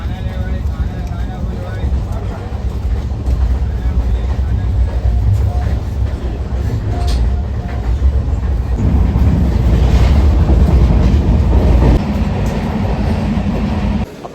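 A Mithila Express train on the Raxaul–Howrah run rumbles steadily in sleeper class, a loud, continuous low roar with rattling carriage noise and indistinct voices inside the coach.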